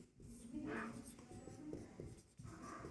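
Pen or chalk writing during a Class 10 statistics maths lesson, scratchy strokes running steadily through the clip beneath a teacher's continuous speech.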